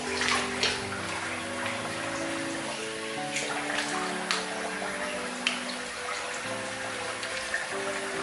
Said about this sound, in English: just rinse the alum off